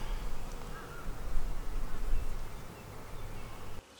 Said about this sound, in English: There's a lot of bees on there.